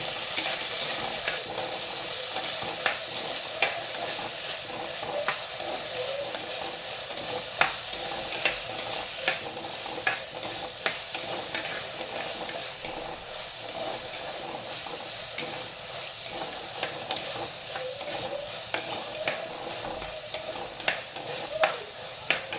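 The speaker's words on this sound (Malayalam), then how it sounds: "പിന്നെ തക്കാളി, പച്ചമുളക്. ഇത് നല്ലതുപോലെ നമുക്ക് വഴറ്റിയെടുക്കാം." Tomato, ginger and green chilli sautéing in a pan, with a steady sizzle running throughout and frequent spoon scrapes and stirring clicks over it, close and moderately loud, no voices.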